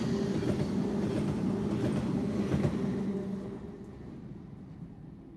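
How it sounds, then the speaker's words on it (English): Train wheels pound across a railway crossing, giving a loud rolling rumble with repeated impacts that fades to a quieter roar toward the end, with no talking. "Listen to the noise generated in the crossing."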